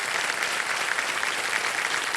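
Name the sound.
studio audience applauding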